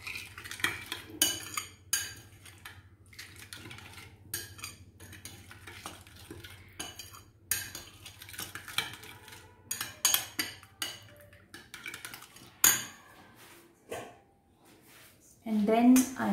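Instant kimchi-style vegetable salad being mixed with oil using utensils, with irregular clinks and scrapes against a bowl, a dog barking in the background and a voice speaking at times.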